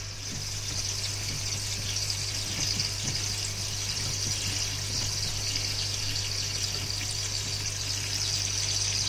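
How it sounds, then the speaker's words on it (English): Water running steadily into a koi pond through a float valve, a constant hissing, splashing flow at close range, unbroken for the whole stretch with no voices. "I need to adjust this float valve in here now to let it fill up to a point where I'm happy with the water line in the pond"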